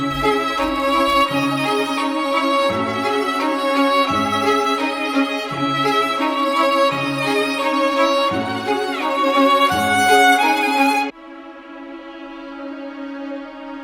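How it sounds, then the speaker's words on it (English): Violin starter melody used as a sample for a dark trap beat: a dense, sustained string line over a rhythmic low pulse, playing continuously before cutting to a thinner held tone near the end. "I found this violin starter that I liked."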